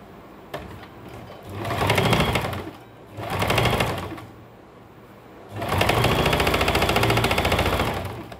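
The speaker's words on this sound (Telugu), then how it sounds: "ఇప్పుడు సెకండ్ స్టిచ్ చేద్దామండి. ప్రతిదీ షోల్డర్ మటుకు సెకండ్ స్టిచ్ చేసుకోవాలి." Sewing machine running a second stitch along the shoulder seam of a flared layered kurti, in three bursts of steady rapid stitching separated by short pauses, close and fairly loud with no talking.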